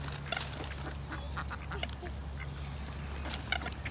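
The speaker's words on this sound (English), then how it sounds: "we got birds all around us" Ducks quacking repeatedly around people feeding them, several close calls in quick bursts over a steady low hum.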